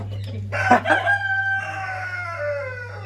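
An Aseel rooster crows once up close, a loud drawn-out call that trails off over a couple of seconds above a low background hum.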